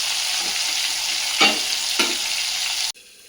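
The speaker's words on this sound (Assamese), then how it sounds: "আৰু তাৰপাছত বাকী থকা মাছখিনি ভাজি লওঁ বলক" Pieces of aari fish fry in hot oil in a pan, a loud, steady sizzle heard up close, with a couple of sharper bursts as the pieces are stirred or turned before the sound suddenly cuts off.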